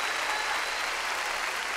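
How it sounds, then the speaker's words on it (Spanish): A church congregation applauding during a Sunday service, a dense, even wash of clapping that holds steady from start to finish, somewhat distant and with no clear talk. "Si le vamos a dar palmas"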